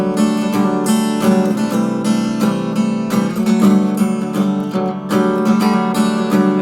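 Strummed acoustic guitar chords in open DADGAD tuning ring out steadily and fairly loud, with bright strings and a deep sustained bass.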